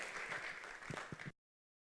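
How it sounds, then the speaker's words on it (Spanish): Audience applause in a church, a steady wash of clapping from a congregation that holds evenly for over a second and then stops abruptly. "Recibamos con un cordial aplauso, por favor."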